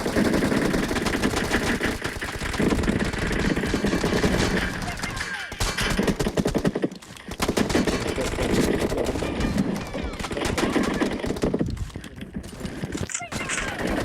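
Rapid automatic M416 rifle fire from a PUBG match rattles in dense bursts with short pauses, loud and continuous throughout, while a player talks over it.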